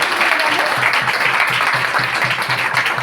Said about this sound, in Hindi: क्या बात है, एक बार जोरदार तालियां हो।